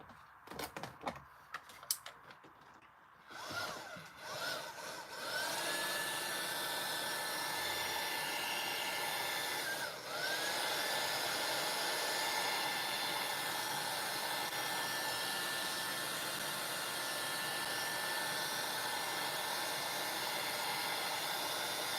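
A heat tool blows hot air to dry paint on a vintage junk journal page. After a few soft handling clicks, a steady, close whooshing roar runs without a break to the end, with no talking.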